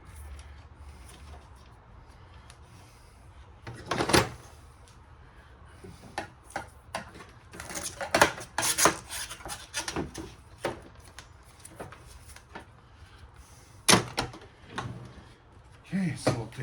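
Small clicks and scrapes of screws being worked loose from an old air conditioning unit, sparse and close, with louder knocks around four, eight and fourteen seconds; a voice speaks briefly.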